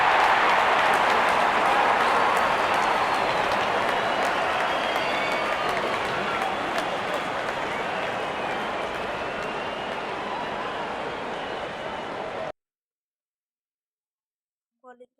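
A crowd at a cricket match applauds and cheers loudly as the opening batsmen walk out, a dense wash of clapping and shouts that slowly thins before cutting off abruptly, followed by a brief faint voice.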